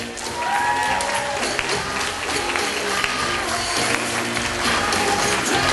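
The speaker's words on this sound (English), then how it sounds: "How about a nice round of applause" A wedding crowd applauds steadily throughout as the bridal party is introduced, dense clapping with a few voices murmuring underneath.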